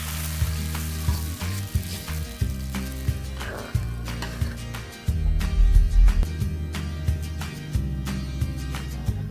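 Bay leaves, lemongrass, galangal and bird's-eye chili fry in oil, a loud continuous close sizzle broken by stirring scrapes, with coconut milk poured in bit by bit and the hiss swelling and bubbling midway; no talking.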